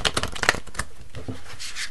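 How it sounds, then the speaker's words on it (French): Tarot cards being shuffled by hand in a quick run of papery riffles and soft taps, close and fairly loud with no talk over it. "Moi, j'ai le don de brasser mes tarots à l'envers"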